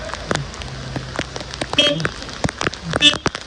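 Steady heavy rain patter with sharp drips and splashes, close by on flooded roads, under occasional voices and passing noises.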